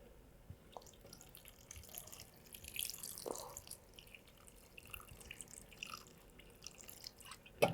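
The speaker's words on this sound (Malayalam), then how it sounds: "കുറച്ച് വെള്ളം നമുക്ക് ഇത് വേകാനുള്ള വെള്ളം അത് നമ്മൾ ഒഴിച്ചു കൊടുക്കാം" Water from a tap poured into a cooking pot for an Onam dish, a faint, steady trickle with a few soft drips against low kitchen background noise.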